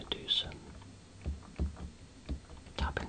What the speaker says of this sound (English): tapping sounds on the keys.